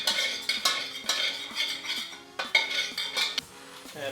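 Cauliflower wings, baked crispy, get stirred into a sauce mixture in a bowl, with close, repeated scraping and clinking of a utensil against the dish in an uneven rhythm, with no talking.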